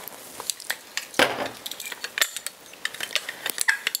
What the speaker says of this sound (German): das Öl einfach langsam einrühren